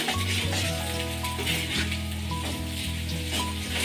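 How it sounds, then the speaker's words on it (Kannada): Onions and green chillies fry lightly in a pan for vegetable fried rice, making a loud, even sizzle, and a low steady hum runs underneath. "ಈರುಳ್ಳಿ ಸ್ವಲ್ಪ ಲೈಟಾಗಿ ಫ್ರೈ ಆಗಿದೆ"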